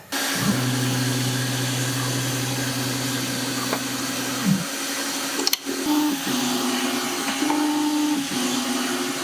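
A EufyMake E1 UV printer printing on a plastic case at high quality, a steady mechanical whir and hum with a low motor drone at first, then a carriage shuttling in repeated short passes.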